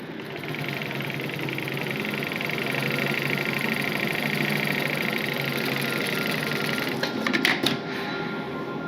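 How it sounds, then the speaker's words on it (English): A sewing machine at work, a steady loud mechanical whir held for several seconds, with a brief burst of quick clattering near the end. "then start sewing it"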